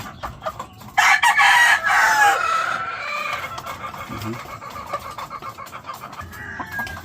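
Chickens at a breeding yard in Silang, Cavite, including a breeding hen, with a loud crow rising suddenly after a quiet start, then ongoing clucks and calls fading to scattered softer sounds.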